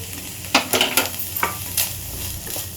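Chicken stirred with salt and black pepper in a hot pan, a sizzling fry bed broken by several sharp scraping strokes of a spoon against the metal, close and fairly loud, no voices.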